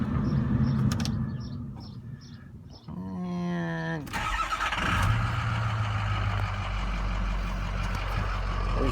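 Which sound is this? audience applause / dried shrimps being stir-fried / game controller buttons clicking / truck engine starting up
truck engine starting up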